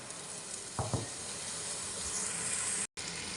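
Ginger drops into hot oil with garlic in a pan for a clam soup, a loud, continuous sizzling hiss with a couple of brief stirring clatters.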